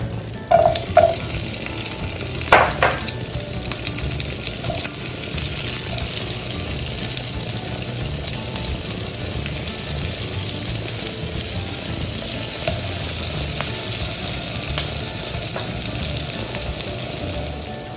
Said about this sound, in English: After butter is melted, we add our onions and wait for them to caramelize.